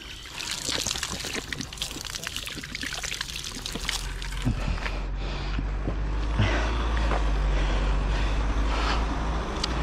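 Cold water flowing on a trail near White Horse, Waimate, New Zealand, a steady splashing pour and trickle close by, with brief breathy sounds and a low rumble building toward the end.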